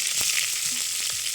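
Onions hiss and sizzle steadily in hot cooking oil in a pan, an outdoor island cookout in the Philippines, with a few soft clicks of utensils over the constant frying noise.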